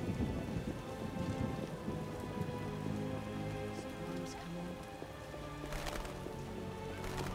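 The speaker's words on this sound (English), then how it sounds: "What a downpour." Heavy downpour in The Witcher, a dense steady hiss of rain on surfaces with low thunder rumbling throughout and a sharp crack of thunder near the end, no talking.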